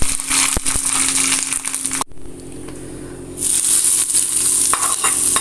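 A dried-chili tempering in hot coconut oil crackles loudly, cuts off abruptly, then bursts back into a strong hiss as it is poured over taro-leaf pachadi, with close, steady sizzling and no voices.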